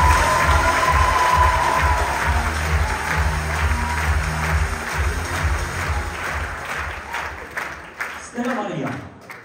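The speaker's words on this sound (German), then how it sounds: "Begrüßen wir Sie mit einem kräftigen Applaus" Audience applause at a 2023 NÖN singing competition greets the first contestant, a singer: a dense, steady clapping wash with some cheering, fading near the end as a host begins speaking.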